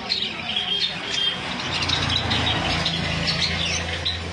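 Cockatiels and other caged birds at a wholesale bird market, giving a dense, continuous wash of shrill chirps and squawks. The calling stays steady and fairly loud throughout, over a low hum of market noise.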